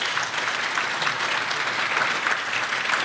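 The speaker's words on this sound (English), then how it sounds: "Round of applause." Audience applause at a Newport Beach Chamber economic forecast event, a steady dense wash of clapping from a large crowd that holds level throughout without talk.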